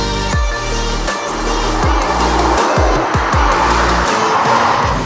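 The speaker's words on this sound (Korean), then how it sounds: "지금 주행을 좀 해보면서 이 2000cc로 다운사이징된 엔진을 좀 느껴봤는데요" A Jeep Wrangler Rubicon with a downsized 2000cc engine pulls hard, its engine note climbing and dropping through repeated quick gear changes, loud and close inside the cabin.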